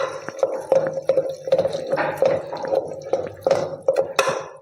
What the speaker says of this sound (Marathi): ही रवीच्या साहाय्याने घोटून घेऊ।